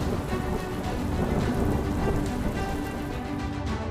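A torrential downpour in Tapi, Gujarat, drums steadily on surfaces as a thick, continuous hiss of falling water that holds a constant, fairly loud level throughout.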